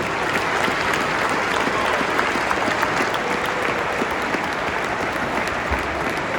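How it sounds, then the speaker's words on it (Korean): A stadium crowd at a Manchester City and Everton football match applauds and cheers as Zinchenko walks out, a dense, continuous roar of clapping from thousands of fans that holds steady throughout. "지금 진첸코가 들어오자마자 다들 박수 치면서 환호해 줍니다."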